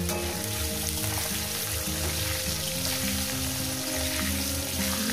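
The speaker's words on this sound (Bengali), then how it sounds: "দিয়ে এটাকে আমি ভালো করে সুন্দর করে লাল লাল করে ভেজে নেব" Potato pieces with turmeric frying in hot oil in a pan for a fish curry, giving a loud, continuous, even sizzle with a dense crackle throughout.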